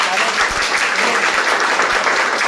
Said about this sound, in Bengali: একদম একটা হাততালি হোক।